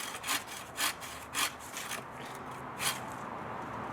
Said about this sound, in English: I won't make you watch the whole sawing process, don't worry.